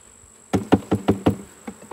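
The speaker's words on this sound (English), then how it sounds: "I don't want bees to start coming over here and robbing me" Honey bees around a hive box during a summer honey extraction, with a series of six or seven sharp close taps or knocks in a steady rhythm over a faint steady buzzing drone.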